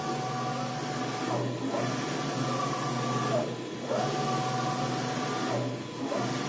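A retrofitted LinuxCNC machine with servo motors spinning up to 1500 RPM makes rapid moves at 7.5 meters a minute, a steady whirring hum with whining tones that ramp up and down with each traverse, repeating every couple of seconds.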